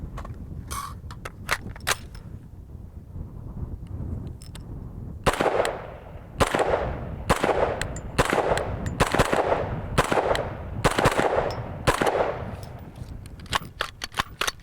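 Del Ton AR-15 rifle fired outdoors in a quick string of about a dozen loud, sharp shots after a few scattered earlier reports, each crack ringing briefly.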